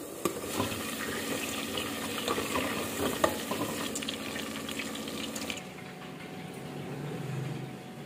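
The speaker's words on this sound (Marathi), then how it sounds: "चमच्याच्या सहाय्याने छान फिरून घ्यायचं आहे." Ghee simmers in a pan with a soft, steady sizzle while a spoon stirs it, giving faint scraping and bubbling close by. The sound eases slightly toward the end.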